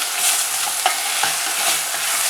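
Tomatoes sizzle steadily in a hot pan while being stirred for dal fry, with soft scraping strokes over the constant close frying hiss, no voices.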